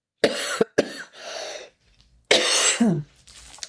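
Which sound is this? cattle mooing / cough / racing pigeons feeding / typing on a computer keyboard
cough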